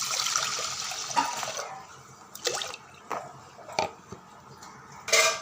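Water splashes and trickles into a metal pressure cooker over added rice, a steady pour at first, then a few separate drips and clinks, close by and moderately quiet.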